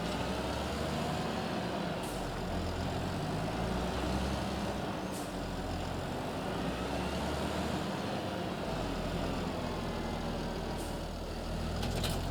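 A tractor with a mower attached in a farming video game, a continuous heavy engine drone with a steady low rumble, loud and even for the whole stretch, with faint clicks now and then.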